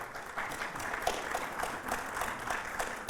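An audience claps at a public forum, a steady, moderately faint patter of applause with clustered hand claps, continuing evenly throughout.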